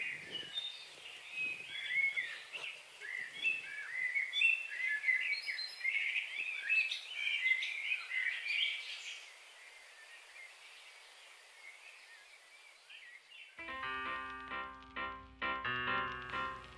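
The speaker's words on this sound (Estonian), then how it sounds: "Ma jäin kuulama, kui ilusti linnud laulavad." Several birds sing outdoors in a continuous, busy mix of chirps and trills, fairly close and clear, with no voices; near the end the birdsong gives way to a bright, tonal melody.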